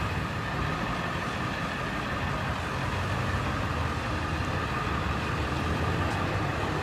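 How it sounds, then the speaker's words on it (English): Steady traffic of cars going by on a street outside an open doorway, a continuous low engine rumble and tire hiss with no clear individual passes, fairly close and constant throughout. "So we got cars going by"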